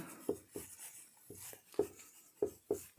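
Writing on a board during a Hindi-medium Class 10 mathematics lesson on mensuration: a series of short, scratchy taps and strokes in an uneven rhythm, fairly close and quiet, with no talk over them.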